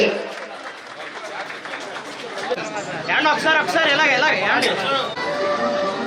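Audience applause at an oath-taking ceremony, a moderate clatter of clapping building over steady crowd chatter, with voices talking throughout.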